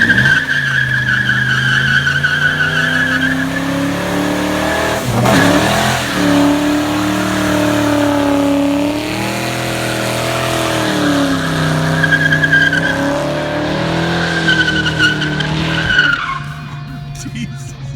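A turbocharged Ford Mustang GT does a burnout, its engine roaring and revving while the tires squeal continuously and loudly up close, then the sound drops away at the very end.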